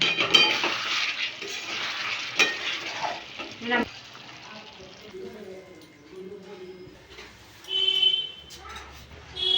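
Boal fish curry in mustard oil gets stirred in a pan: soft sizzling with scattered clinks and scrapes of a spoon, while a person talks over it.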